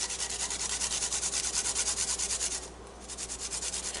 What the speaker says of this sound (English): I'll have to grate my garlic in here.